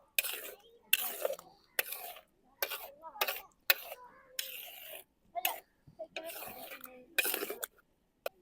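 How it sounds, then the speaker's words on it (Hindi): Khoya being stirred together with carrot murabba in a kadhai, a run of about ten short scraping strokes with brief pauses between them, close and fairly distinct. "खोए को मुरब्बे के साथ अच्छी तरह मिक्स कर लेंगे"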